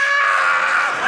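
A comedian lets out a shrill, childlike scream of fear in a short sustained burst, loud and close, mimicking panic in a stand-up routine.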